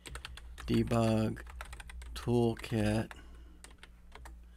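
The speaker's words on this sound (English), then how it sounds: "type in the URL" Quick clicks from a computer keyboard as a web address is typed, a light irregular patter of keystrokes running under a man's speech.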